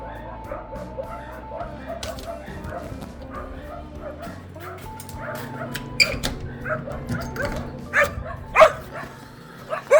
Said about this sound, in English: Let's go see what those dogs are barking at.